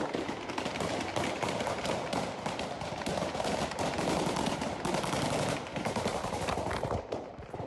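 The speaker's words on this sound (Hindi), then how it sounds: "ये AK-47 की फायरिंग नहीं बल्कि मशीन गन का फायर था" Machine gun firing in Kabul, a long continuous rattling burst of rapid shots, loud and harsh, running almost unbroken for about seven seconds before tapering off.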